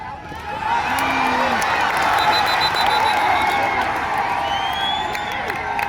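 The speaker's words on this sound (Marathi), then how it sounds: "जल्लोष" A large crowd at a kabaddi match between Kolhapur and Ahilyanagar keeps up loud, continuous cheering, whooping and clapping, with voices shouting over the dense roar and a whistle-like tone briefly cutting through.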